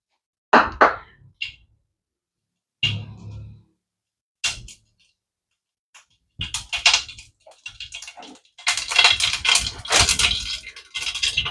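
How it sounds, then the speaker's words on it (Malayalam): Mustard seeds splutter in hot oil for a dried prawn dish. Sporadic sharp pops come close up, then build into dense, continuous crackling. "കടുക് ഇട്ട് കൊടുക്കാം കുറച്ച്."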